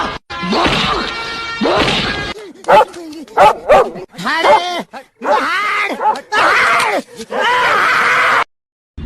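Loud, close barks and yelps come in uneven bursts with strained, groaning howls between them, sounding agitated and harsh.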